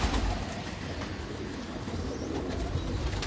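Pigeons in a Lahore loft coo softly in low, throaty murmurs under a background hiss and faint clatter.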